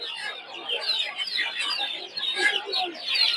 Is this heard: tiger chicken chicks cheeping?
yes